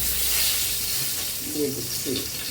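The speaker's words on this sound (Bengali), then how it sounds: "তেলের মধ্যে ফোড়ন দিয়ে দিচ্ছি 2টো তেজপাতা" Two bay leaves dropped into hot oil for tempering in a Bengali suji khichuri recipe, giving a steady sizzle and frying hiss with light stirring. Brief voice fragments sit under it.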